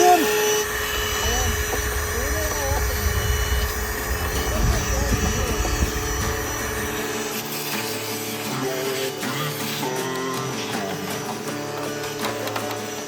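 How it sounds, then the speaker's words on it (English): A vacuum cleaner runs inside a Ford Econoline van during rust repair of the floor, a steady droning whine with a rough low roar in the first half that drops away, leaving a sustained tonal hum. "gonna fire up the vacuum"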